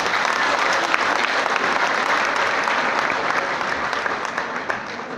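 Audience at a graduation ceremony in the Palais des congrès claps continuously for the MCs, a dense, even wash of clapping that holds steady and tapers slightly toward the end.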